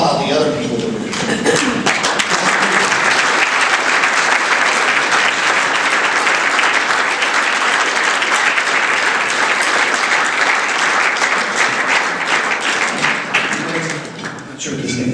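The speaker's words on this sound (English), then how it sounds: "please just applaud all the other people in this room" Loud, sustained applause from a large room at a high school event, continuous for many seconds, with a brief voice at the start before the clapping swells.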